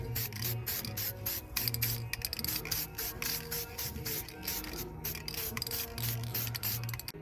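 Flat black lacquer is spray-painted onto a sandblasted frame during a bumper and winch restoration, giving a steady hiss broken into short repeated bursts and rubbing noises at close range, with no voices.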